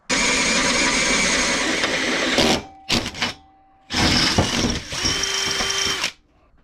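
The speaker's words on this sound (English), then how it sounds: "Alright, got those drilled out, clean them up a little bit." A power drill boring holes in metal posts of a metal brake stand, two loud close bursts of whining drilling separated by short stops and clicks.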